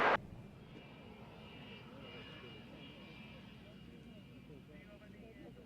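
Aircraft taxiing on the ground at the Waddington airshow, a steady engine rumble and whine running throughout at moderate distance, under radio chatter from ground control.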